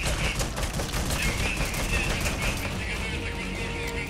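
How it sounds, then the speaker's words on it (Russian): Metal Gear Solid V: The Phantom Pain gunfire: dense, sustained automatic fire rattling continuously at steady loudness throughout, with no clear talking. "Кто там стреляет?"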